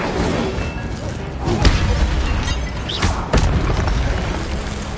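Incendio fire spell cast in the Hogwarts Legacy video game, a sudden booming burst followed by a second heavy thump, surrounded by dense, continuous combat noise.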